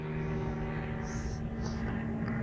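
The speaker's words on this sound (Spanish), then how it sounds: "Mucho ruido esa avioneta." A small propeller plane drones overhead near a lake during crappie fishing, a steady, fairly loud engine hum that holds throughout without any talk.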